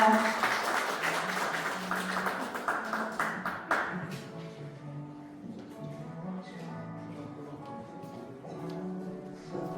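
Audience applause welcomes a guest lecturer at a political party lecture. Dense clapping fills the first four seconds, then gives way to steady background music with sustained tones.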